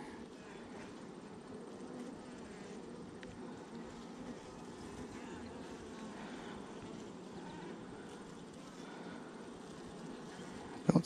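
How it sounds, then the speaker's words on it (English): Honeybees in an emergency split hive make a steady, dense buzz throughout, low and continuous like a hum, with a brief knock near the end. "we got a lot of bees"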